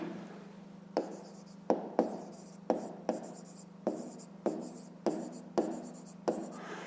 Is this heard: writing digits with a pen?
yes